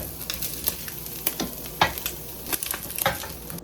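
Sausage and eggs frying over low heat on a portable butane stove, a steady close sizzle with frequent crackles and pops, with no talking.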